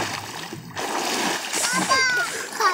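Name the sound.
children splashing while diving in a pond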